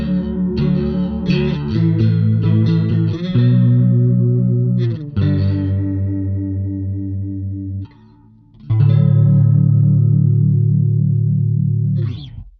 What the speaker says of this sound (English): But hopefully that gives you some idea of how the chorus sounds.